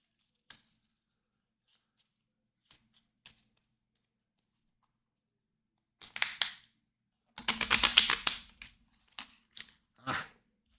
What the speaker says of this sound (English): Sometimes these little cards are hard to shuffle too.